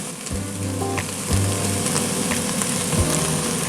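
Onion, garlic and mushrooms sizzle steadily in a hot pan as flour is added, with a constant close crackle broken by a few scraping stir strokes over a low background hum.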